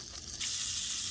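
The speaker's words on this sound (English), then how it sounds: "I've added a half a stick of butter to my frying pan" Half a stick of butter melting in a frying pan, giving a brief, close hiss that swells into a steady bright sizzle.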